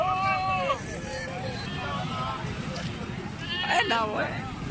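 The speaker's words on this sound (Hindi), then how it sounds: "ये बकरा चेक करें" A goat at a livestock market bleats several times in wavering, nasal cries, close to the microphone, amid wind noise and the bustle of the market, with someone talking in between.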